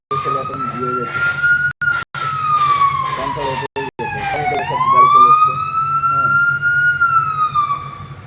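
Fire service vehicle siren wailing near a burning park, a loud close rising and falling tone broken by brief dropouts and sweeping upward again, with voices talking underneath.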